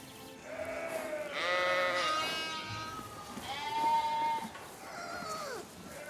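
A flock of sheep bleats repeatedly on open grazing land in France, with several overlapping, wavering calls near and far and no talk.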